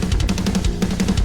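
Unmixed metal recording with dense distorted guitars and pounding drums forms a raw, muddy wall of sound that stays loud and continuous in a short burst.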